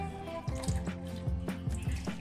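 Warm coconut milk from grated coconut soaked in hot water, strained through a sieve for a Bengali prawn malai curry, dripping and trickling in a steady patter of drops with some liquid splashes, close and fairly quiet, no voices.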